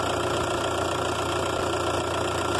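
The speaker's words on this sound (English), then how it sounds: "I'm just letting it idle for a minute here" A car engine with a suspected blown head gasket idles loudly at close range, recorded with the camera resting on the engine. It gives a constant rumbling drone with rattly vibration and a faint ticking knock.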